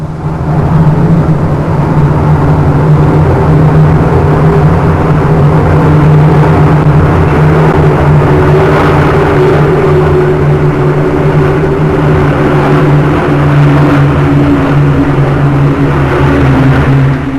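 Avro Lincoln four-engine bombers fly past in formation at about 1,900 feet during the 1953 RAF Coronation Review, a continuous loud droning rumble of piston engines holding steady with no voices.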